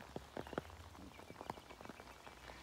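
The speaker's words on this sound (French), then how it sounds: "c'est la pluie dans le 41" Early-morning rain at about 7 a.m. in Loir-et-Cher, France, falling as faint, scattered drips and taps against a quiet background, with no talking.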